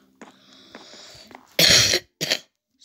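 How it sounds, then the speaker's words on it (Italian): A person coughs twice near the microphone, a loud harsh burst followed by a shorter second one after a brief pause, preceded by faint clicking game sounds. "Scusate, però ho la tosse."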